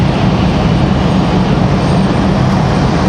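An American Airlines jet arriving at Raleigh-Durham airport, heard as a steady, loud broadband engine roar with a deep rumble that holds level throughout, without talk.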